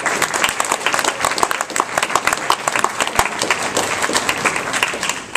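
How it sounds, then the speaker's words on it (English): Audience at a youth council event applauding staff, lively close clapping from a crowd with sharp individual claps standing out, sustained evenly throughout. "So a round of applause for them as well."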